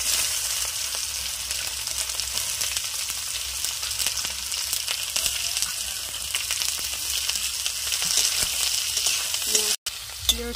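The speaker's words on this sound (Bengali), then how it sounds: "পেঁয়াজটা ভেজে নিয়েছি লাল লাল করে" Onion sizzling steadily in hot oil in a home kitchen pan while cooking a meat curry, a dense continuous hiss with faint clicks throughout, ending in a brief cut of silence and a small clink near the end.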